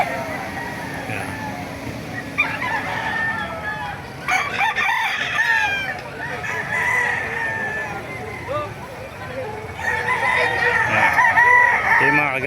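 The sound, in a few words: roosters crowing and chickens clucking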